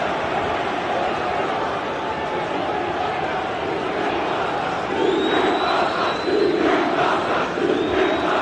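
Home supporters at Pride Park roar continuously during a 2007–08 Premier League match between Derby County and Manchester United, a wide, distant crowd wash with whistles rising over it and surges of noise toward the end.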